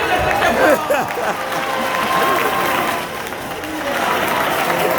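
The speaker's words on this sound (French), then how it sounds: "On l'applaudit." An audience at a French-speaking event breaks into steady, continuous applause for about five seconds, filling the room from start to finish.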